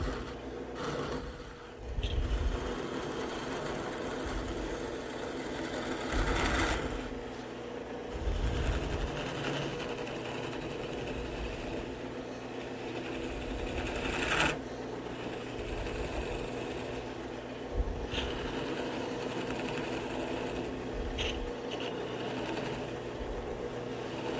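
A lathe takes light cuts on a thin shaft, turning down its diameter with a continuous close whirring hum and a few brief louder scrapes.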